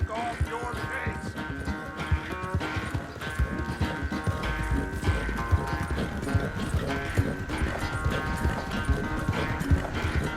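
Horse hooves clip-clopping in Red Dead Redemption 2, a steady rhythmic trot heard under continuous game music, with occasional character dialogue over it.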